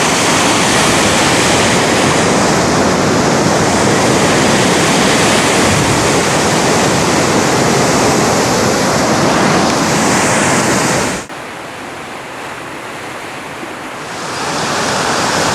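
Surf rolls onto Playa Catedras, a Galician beach on the north coast near Ribadeo, a loud, dense wash of breaking waves with wind buffeting the microphone. The roar drops sharply near the end, then swells back up.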